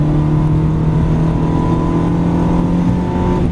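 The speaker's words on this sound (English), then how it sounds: "Now 5th gear. Now hard on the throttle." On a racing track, an Aston Martin or Ferrari accelerates hard in fifth gear, a loud sustained engine drone with steady tones heard from inside the car, no speech.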